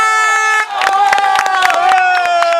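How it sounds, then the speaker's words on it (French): An audience claps and cheers for a third-place finisher, with a burst of sharp claps breaking in under music and a voice talking. "on l'applaudit très fort"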